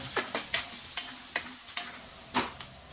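Food fries in a pan while a spoon stirs it, giving about eight sharp scraping strokes at an uneven pace over a low, steady background. The sizzle is faint and nobody speaks.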